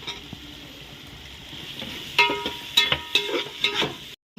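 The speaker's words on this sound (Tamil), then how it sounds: "நல்லா வதங்கிடுச்சு, புதினா கொத்தமல்லி எல்லாமே" Mint, coriander and green chilli are sautéed in oil for mutton biryani. A quiet sizzle builds, then sharp metallic scrapes and clinks of a spoon against the pan come in a quick irregular run, close and without speech.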